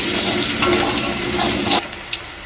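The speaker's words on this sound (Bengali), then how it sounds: "দু মিনিট মতো নেড়ে চেড়ে একটু ভেজে নেবো আমি" Sliced onion frying in a pan, with a loud, close, continuous sizzle and stirring noise that cuts off abruptly partway through, leaving a quieter background with a faint clink.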